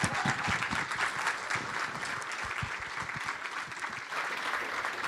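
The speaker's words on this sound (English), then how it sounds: "let's give him a round of applause" A crowd applauds to welcome a panel moderator at an Indigenous mental health gathering, a continuous bright patter of many hands clapping at a steady level, easing slightly toward the end, with no talking over it.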